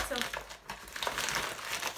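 Paper crinkles and crumples as a taped package is pulled open, the rustling steady and close throughout.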